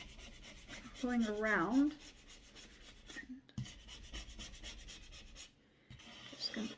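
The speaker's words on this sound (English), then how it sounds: "So all I'm doing is I'm just doing light scraping" A scraper rubs lightly over a glass cooktop stove in a steady, close scratching that keeps going, with brief pauses, as a voice talks over part of it.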